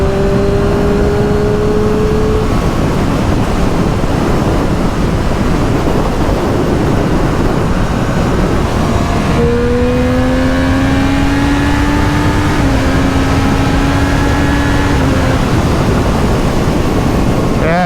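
A 2024 Triumph Street Triple R motorcycle accelerating in sixth gear. Its engine whines in steadily rising tones under heavy, constant wind rush, with a brief dip partway through.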